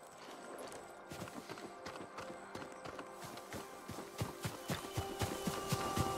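A farm horse in the samurai game Ghost of Tsushima walks with quiet, regular clip-clop hoofbeats, soft at first and growing steadier and a bit louder, with no talking over them.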